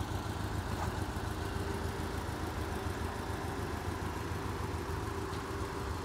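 A Porsche Cayman 718 GTS engine idles steadily and fairly loudly, settling after a start during an oil change, with a continuous low flat-four rumble and no talking.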